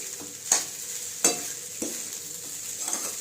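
Sabudana khichdi stirred and sautéed in a kadhai, with a few sharp scrapes of a spatula against the pan over a steady soft sizzle, close and moderately quiet, no talking.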